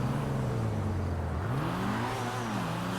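The Pfister Growler sports car, a Porsche Cayman-style model in GTA Online, revs with a rising and falling engine tone, steady and moderately loud with no talking.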